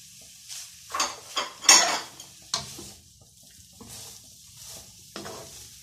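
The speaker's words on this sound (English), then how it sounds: "I'm going to be adding our cabbage, our sliced cabbage." Sliced cabbage dropped into a hot pan and stir-fried: bursts of crackling sizzle and scraping utensil strokes come in uneven clusters, close-up, with quieter gaps between them.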